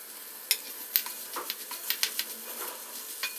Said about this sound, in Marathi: मिक्स करून घेऊयात व्यवस्थित।